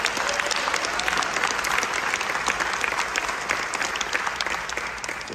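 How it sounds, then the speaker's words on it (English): An audience applauds a school band that earned a superior rating at a convention. The clapping is dense and steady and holds at the same loudness for the whole stretch, easing off only slightly at the end. "go ahead and clap. Let's clap."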